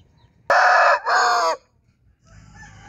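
A golden Shamo rooster crows once, loud and close, a strong drawn-out call with a brief dip partway through, followed by faint background noise.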